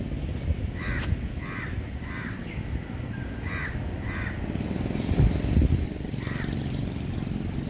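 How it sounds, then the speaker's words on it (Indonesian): Crows cawing outdoors on Penang Island in Malaysia, a series of repeated harsh caws at moderate distance over steady traffic and engine rumble. "Saya sering mengatakan di Pulau Penang itu ada gagak."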